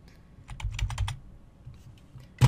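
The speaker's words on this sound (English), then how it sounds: "Control D, arrow keys." Computer keys are tapped in a quick cluster of clicks, then a pause with a few lighter taps and one final louder keystroke.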